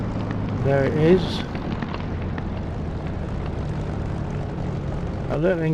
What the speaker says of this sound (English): A little increase in volume due to reflected engine sound off the runway.